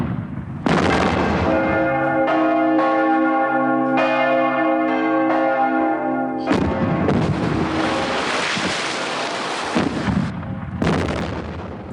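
A large church bell tolls loudly several times, each strike ringing out with a long humming decay, then heavy booming blasts like artillery fire crash in near and loud.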